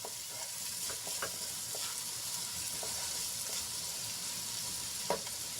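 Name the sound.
onion sautéing in a pan until pink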